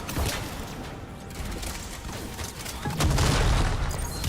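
Weapon fire in the Mass Effect video game, a loud, dense burst of shots and booms running throughout, thickening into a heavier volley toward the end.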